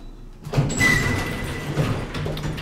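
Doors of a 1987 Otis Elevonic 401 traction elevator, left rough, slide along with a rumbling scrape and a brief high squeal, moderately loud and close over a steady low hum.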